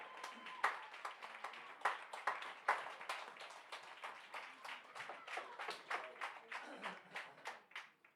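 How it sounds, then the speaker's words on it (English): Distant crowd clapping steadily in the stands at a high school football game, saluting the homecoming king, queen and court, with rhythmic hand claps carrying on for several seconds and no voices over them. "Let's give a big round of applause for your homecoming king and queen and your entire homecoming court"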